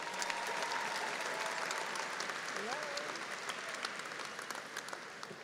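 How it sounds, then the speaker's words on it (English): A round of applause from the audience at an Angelo State University fall commencement ceremony, cheering newly named graduates; dense, steady clapping from a large crowd, heard fairly distant and soft, tapering slightly near the end. "Let's have a round of applause for these graduates,"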